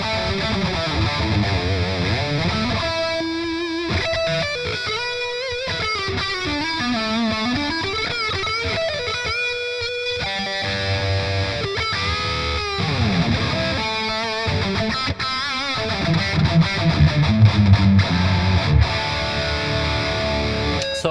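Guitar played through a Hotone Ampero Mini with delay and reverb engaged, recorded through an SE Electronics R1 ribbon microphone: a continuous, distorted, effect-washed melodic line with echoing tails, steady and full with no talking.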